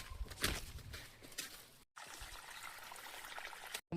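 Water flows and trickles through a maize field in a steady, faint, broadband rush that drops out briefly twice, with no voices.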